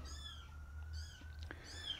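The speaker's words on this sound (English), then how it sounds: "So if you hear all this meowing going on, that's the kittens." Kittens meowing close by in a quiet room, three thin high-pitched mews spaced about a second apart, with a low steady hum underneath.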